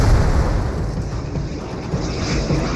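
A rocket explosion from a wartime attack, a deep, heavy rumbling boom that rolls on steadily for a few seconds without clear separate blasts.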